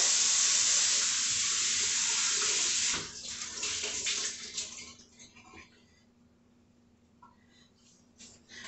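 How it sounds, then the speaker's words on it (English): Tap water runs steadily into a sink while a pan is rinsed after cornbread dressing prep, a loud, close hiss for about three seconds that then breaks into quieter splashes and trickles. "Rinse the pan out a little bit."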